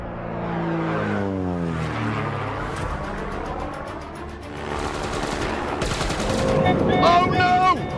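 Machine gun fire from a plane strafes a car, a rapid, loud rattle of bursts over the whine of engines and aircraft, with a droning approach and whistling near the end.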